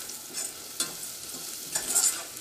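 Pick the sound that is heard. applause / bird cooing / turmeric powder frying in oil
turmeric powder frying in oil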